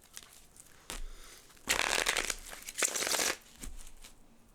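Tarot cards are shuffled in a few riffling bursts, close and crisp, with quiet pauses between them.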